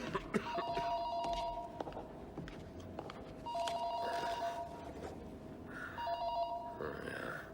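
A telephone rings in a pathology office, with repeated electronic ring bursts coming in separate groups over steady room background and faint murmuring, at moderate loudness.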